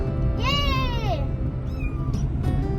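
A pet cat at home in Canada gives one loud, drawn-out meow. A shorter, fainter meow follows, both close over a steady background hum.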